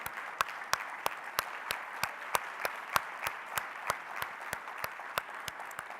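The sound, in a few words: audience applause for Lynn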